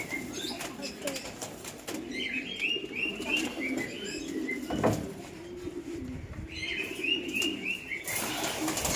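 Pigeons in a loft flapping their wings in repeated close bursts, with soft cooing and chirps between, and someone talking quietly in the background.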